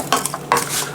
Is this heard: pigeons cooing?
no